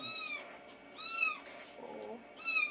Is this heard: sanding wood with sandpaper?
no